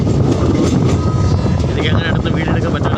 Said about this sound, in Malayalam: തിരുവനന്തപുരത്ത് വരാൻ വേണ്ടി ട്രെയിൻ പോയിക്കൊണ്ടിരിക്കുകയാണ്